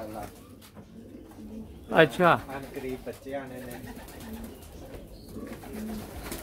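Pigeons in a loft in Hessen, Germany, kept alongside chickens and rabbits, coo in a few soft rolling bursts near the middle, with people talking throughout.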